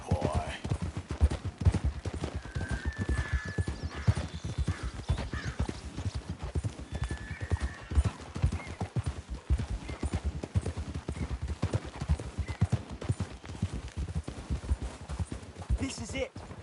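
Horses clip-clop steadily in the video game Red Dead Redemption, a fast, continuous patter of hooves with occasional snorts and a faint whinny, running under intermittent speech.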